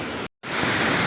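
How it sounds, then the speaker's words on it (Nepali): Phutphute waterfall spilling from a cliff along the north Annapurna base camp trek near Narchyang, Myagdi: steady broadband rushing water, loud and continuous, cut by a brief gap of silence before the roar resumes. "यो फुतफुते झरना हो"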